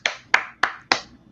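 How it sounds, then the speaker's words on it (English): Four sharp, evenly spaced hand claps, close and distinct, with short decays between them and no voices. "give her an applause."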